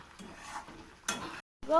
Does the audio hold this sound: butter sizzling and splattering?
yes